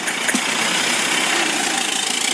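An old car engine from the Mafia: Definitive Edition game idles with a steady, mid-pitched rumble and faint rattling vibration, loud and close, and no voices speak over it.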